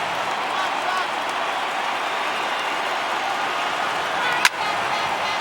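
A baseball stadium crowd of more than 36,000 rises and roars in MLB The Show 18, Marlins at Red Sox, as a steady, loud wash of crowd noise with one brief sharp crack near the end.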